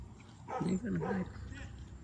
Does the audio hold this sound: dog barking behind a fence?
yes